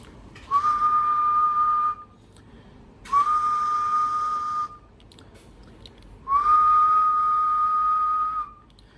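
A Yaesu FT-2000 HF radio receiver tuned on the 7 MHz band in LSB gives three steady whistling tones, each lasting about one and a half to two seconds with short pauses between, over a faint background hiss.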